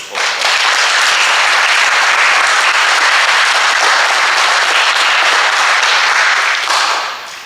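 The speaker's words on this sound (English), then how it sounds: "Can we give these people a round of applause?" Sustained applause from a school assembly audience, a dense, steady wash of many hands clapping at once that swells quickly, holds loud for several seconds and tapers off at the end.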